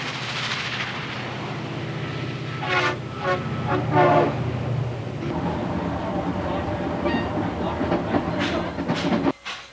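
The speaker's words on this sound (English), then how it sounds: "The train is going faster." A passenger train with a dome car speeds along with a continuous rumbling roll and rhythmic clatter, steady and mid-distance, with a voice speaking over parts of it before it ends abruptly.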